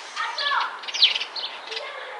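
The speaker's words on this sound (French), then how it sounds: "Je sais pas si on entend les oiseaux. Normalement, je pense que si." Birds chirp and tweet outdoors in fine weather, scattered high calls coming and going at moderate distance over a quiet background.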